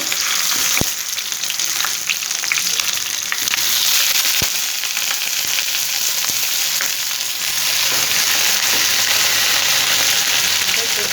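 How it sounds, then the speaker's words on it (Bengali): Hilsa fish pieces frying in oil in a pan on low heat while cooking ilish paturi, giving a loud, steady, dense sizzle that lasts the whole stretch, with a few sharp pops and spatters and no voices. "তো এখন আমি এই মাছগুলো একে একে বসিয়ে দেবো আর চুলার আঁচটা দিব হালকাভাবে"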